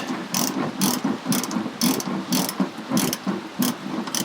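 A hand ratchet clicks rapidly in regular bursts while loosening a 17mm bolt on the leaf spring mount of a Nissan Xterra, close and distinct with a steady rhythmic pawl action.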